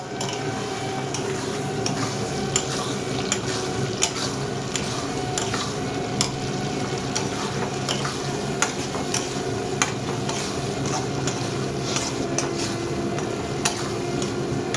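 Egg masala gravy with a pinch of kasuri methi being stirred in a pan, a steady close scraping and sizzling with regular spoon clicks against the metal, no voices.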